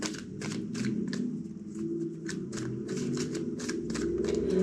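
Rapid bursts of tarot card shuffling, several riffles in quick succession, close and steady, with a low hum underneath.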